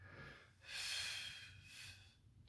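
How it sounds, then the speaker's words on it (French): Deep breaths drawn in through the nose during a boxing conditioning exercise, two close, audible inhales with a pause between, quiet and alone. "2 et j'inspire."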